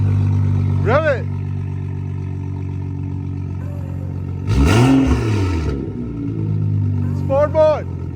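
A BMW fitted with a louder aftermarket exhaust revs hard, one burst swelling up and dropping back in the middle, with a steady idle running throughout and brief shouts from people nearby.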